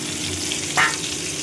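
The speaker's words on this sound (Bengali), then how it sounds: "মশলাটাকে আমি তেলের মধ্যে দিয়ে দেবো" A spice paste of cumin, turmeric and salt goes into hot oil for a Bengali koi fish dish, giving a steady close sizzle with one brief louder burst, no voices.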